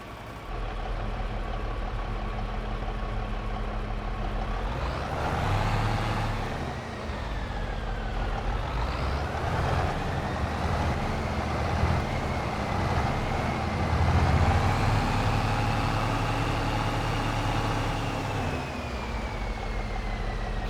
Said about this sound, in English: Hear that turbo whine. Very distinctive sound.